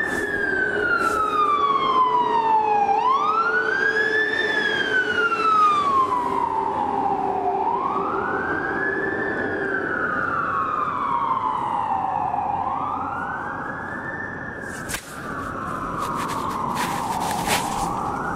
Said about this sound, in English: So a fire truck is coming up, so let's take a look at it.